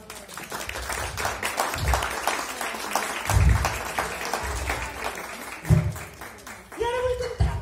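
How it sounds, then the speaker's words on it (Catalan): Audience applause at a children's show, moderate clapping running throughout with voices speaking over it and a higher sung or exclaimed tone near the end. "Molt bé, un aplaudiment"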